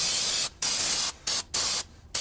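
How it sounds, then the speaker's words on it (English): Brake cleaner sprayed from an aerosol can during a front brake pad job, four loud hissing bursts in quick succession separated by brief gaps, close to the microphone. "So I'll just kind of spray some cleaner in there"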